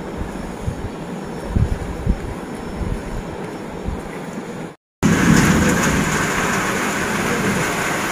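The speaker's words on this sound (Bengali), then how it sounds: "এই বছরের প্রথম বৃষ্টি, গরমের বৃষ্টি" First summer rain of the year pours down outside a parlour as a steady, dense rushing hiss. It cuts out briefly near the middle, then comes back slightly louder.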